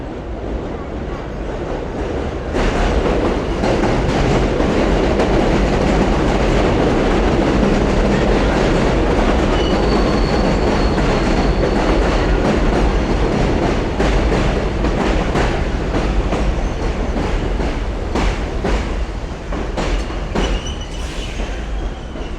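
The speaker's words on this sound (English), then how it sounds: "We got another train coming over." A train rumbles past on elevated tracks in Bensonhurst, Brooklyn, steady and loud, with rhythmic wheel clatter and a brief high squeal of wheels on the rails.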